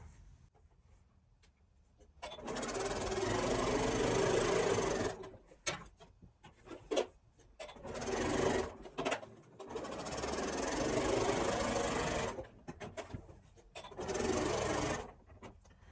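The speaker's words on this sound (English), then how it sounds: "then sew 1/4 inch on either side" A sewing machine stitches fabric for a modern pillow cover in several runs of fast, steady whirring and clicking, separated by short pauses, recorded up close.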